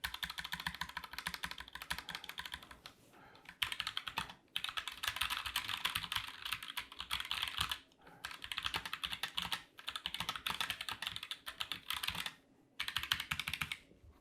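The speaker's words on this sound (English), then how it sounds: "First, we're going to use the ROCCAT Vulcan TKL Pro, which has the optical switches. I'm going to hit the space bar a few times." Space bar on a ROCCAT Vulcan TKL Pro keyboard with optical switches, pressed in quick runs of close, crisp clacks, with short pauses between bursts.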